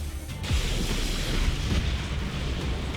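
Explosions in the video game Just Cause 3, a dense run of deep booms and rumbling blasts layered over one another, loud and continuous with no talking.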